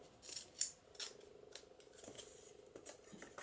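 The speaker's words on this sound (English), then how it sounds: "I'm going to use my little scissors for that" Small scissors snipping through paper in a papercraft project, a series of crisp cuts at close range, some sharper and louder than others, with no talking over them.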